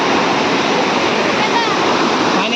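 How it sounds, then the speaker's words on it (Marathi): Loud, continuous roar of a flooded stream after heavy rain rushing close by, steady and powerful without pause. "पाऊस पण मोठा पडला आणि पर्याला बघा बघ केवढं पाणी आलं"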